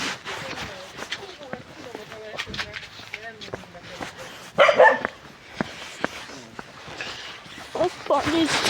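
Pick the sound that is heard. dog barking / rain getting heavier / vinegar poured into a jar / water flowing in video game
dog barking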